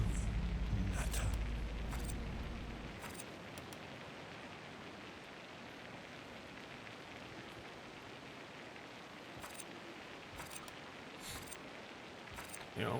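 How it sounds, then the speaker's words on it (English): Steady rain hisses across SimAirport, a broad even wash with a few brief mechanical clicks scattered through and a low rumble at the start. "Ah, the sound of rain."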